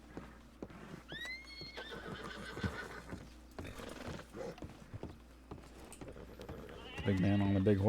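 A horse whinnies and its hooves clip-clop in the WildRP Western roleplay game. Loud neighs and scattered hoof steps play under intermittent talking voices.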